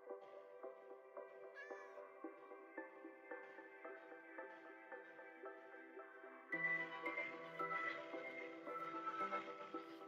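Minecraft cat meowing repeatedly over steady game background music, the mews growing louder and more insistent in the second half as the game's ambient sound swells.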